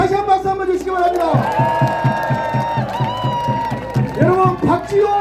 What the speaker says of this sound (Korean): 다시 한 박수 한번 주시기 바랍니다